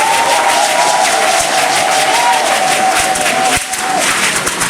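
Congregation in a church service in Yadio village near Agboville applauding and acclaiming, with dense continuous clapping and cheering at steady loudness throughout, a sustained sung or shouted tone riding above it.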